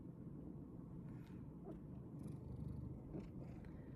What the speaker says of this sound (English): I don't know if you can hear her, but she's purring like crazy.